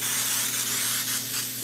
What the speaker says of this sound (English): So I'm going to go ahead and spray my pan.